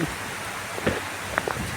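Heavy rain driven by strong wind on a rainy day, a soft, steady wash of rainfall with a few faint drops and rustles standing out, fairly quiet and without any voices.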